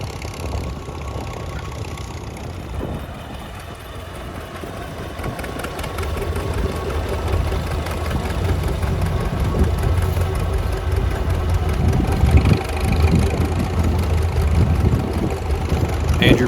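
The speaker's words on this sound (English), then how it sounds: "And now that we're plowing, we can see the plows dance on top of those stones that are hiding." A tractor pulling a plow through stony ground at a national plowing contest, a loud, steady mid-pitched engine drone with a faint knocking rhythm, growing slightly louder toward the end.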